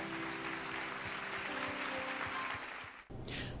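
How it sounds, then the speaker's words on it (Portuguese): A church congregation applauds during a Portuguese-language service, moderately quiet clapping over a steady musical drone before the sound cuts off abruptly near the end. "Vamos aplaudir o nosso Rei, aleluia."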